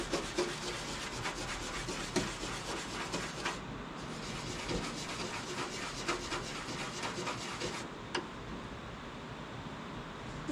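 A Scotch-Brite pad rubs steadily against the rough edges of drilled holes, a continuous close scratchy scrubbing with quick back-and-forth strokes and a couple of brief pauses.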